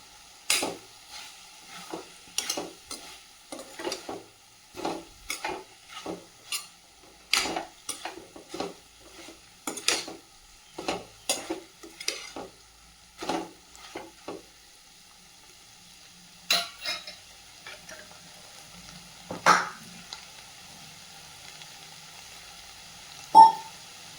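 Dried anchovies being stirred in a frying pan, a run of close, sharp scraping and clinking strokes of a spoon against metal over a faint sizzle, with a few pauses between bursts.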